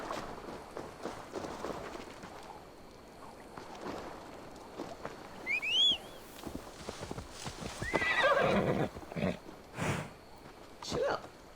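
A horse in the video game Assassin's Creed Valhalla whinnies loudly, followed later by snorting and another neigh, over steady clopping hooves and outdoor ambience.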